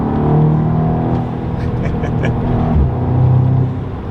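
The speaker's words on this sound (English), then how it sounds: "There's more engine noise, you can totally hear." Audi 8V S3 engine fitted with an MST Performance cold air intake, a steady turbocharged four-cylinder drone with a slight rise and fall in revs, loud and close throughout.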